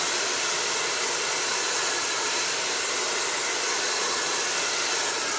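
An Annlary ionic hair dryer blows steadily up close, a constant broadband airy roar holding even for several seconds with no talk.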